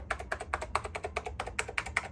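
Rapid, steady keystrokes on a vintage computer keyboard, about five taps per second, close and moderately loud, with no voices.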